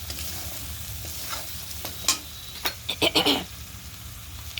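Fish with greens fries in a pan, a steady low sizzle with a few scrape-and-clatter stirring sounds clustered near the end, close and otherwise free of speech.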